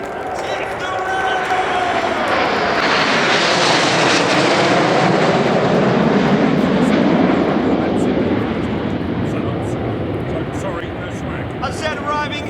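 Royal Air Force Red Arrows aerobatic jets arriving in Diamond Nine formation at the Royal International Air Tattoo air show, a loud roaring jet rush swelling and fading overhead while an announcer talks over it throughout.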